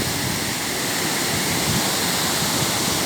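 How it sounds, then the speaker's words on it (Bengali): Sano Ghagra waterfall in Keonjhar, Odisha, swollen with monsoon water, pours down in a loud, unbroken, full-bodied roar, heard alone without voices. "জলগুলো বয়ে বয়ে একদম চলে যাচ্ছে নিচের দিকে"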